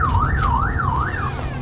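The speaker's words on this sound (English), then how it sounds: "Okay, the alarm went off." Car alarm going off in a horror video game, a loud wailing electronic tone sweeping up and down in steady cycles over a low rumble, with no talking.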